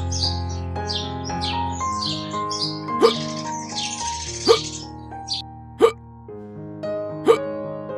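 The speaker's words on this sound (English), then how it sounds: "It's just hiccups." Repeated sharp hiccups, about four spaced a second or more apart, stand out over a steady chirping, tonal background; they are moderately loud and close, with no speech.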